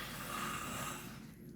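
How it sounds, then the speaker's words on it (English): A child snores somewhere in the background of a quiet early-morning room, a single drawn-out raspy breath fading away, faint and distant. "The snoring in the back is my kid."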